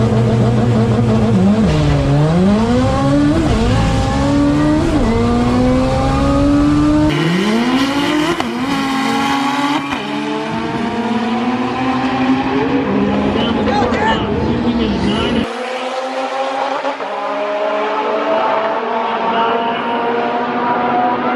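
A race car makes loud passes on a track, its engine sweeping up and down through gear changes with repeated rising whines, one car fading as another approaches close by, with a brief drop in the low rumble near the end.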